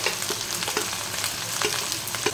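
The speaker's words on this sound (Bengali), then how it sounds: "দেখো পেঁয়াজটা আমি এইভাবে ভালো করে একদম ব্রাউন ব্রাউন করে ভেজে নেবো" Onions frying in hot oil with whole garam masala spices for a chicken dish, a steady broadband sizzle with soft crackles and occasional stirring scrapes, close and continuous with no talking.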